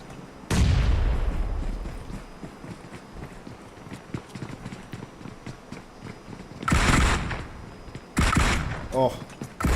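AKM assault rifle fire in a battle royale shooter: scattered sharp shots and short bursts, with two louder close volleys near the end, heard under a commentator's voice.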